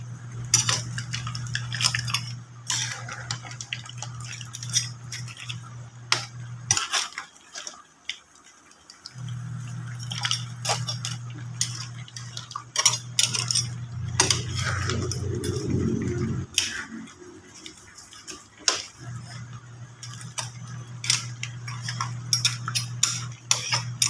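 A utensil stirring seafood in a cooking pot, repeated clinks and scrapes against the metal in an uneven rhythm, close by over a steady low hum from the stove.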